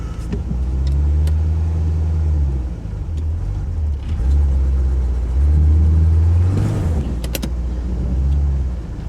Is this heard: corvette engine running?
yes